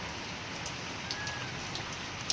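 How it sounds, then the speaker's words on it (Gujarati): Steady rain falls outdoors, a soft continuous hiss of drops with a few sharper patters and drips, fairly quiet and with no talking. "જો અત્યારે ચાલુ જ છે વરસાદ."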